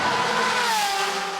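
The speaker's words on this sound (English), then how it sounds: "Wheel to wheel, Ferrari versus Porsche into Eau Rouge." Ferrari and Porsche GT race cars scream wheel to wheel into Eau Rouge at Spa-Francorchamps, a loud, sustained, high-revving engine roar whose pitch slowly drops as the cars pass close by.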